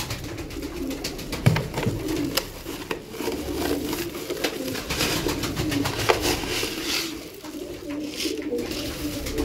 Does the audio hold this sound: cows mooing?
no